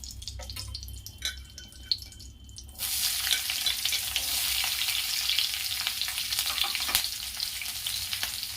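Capsicum sizzles on high flame in a pan with mixed vegetables. After a quieter start, a loud, dense frying hiss swells in near the three-second mark and holds steady, with faint clinks from stirring.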